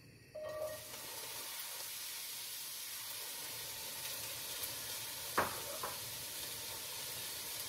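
Chopped onions sizzle in hot avocado oil in a pan, a steady soft frying hiss starting suddenly after a brief pause, with a couple of stirring clinks, no talk.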